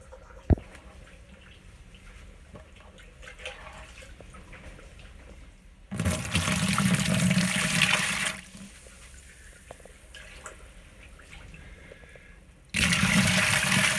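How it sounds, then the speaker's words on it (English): Hot wort poured over hops in a home-brewing vessel, two bursts of rushing liquid, a longer pour followed by a shorter one, loud and close with quiet pauses between. "we're just putting a little bit of the wort in first over the top of the hops"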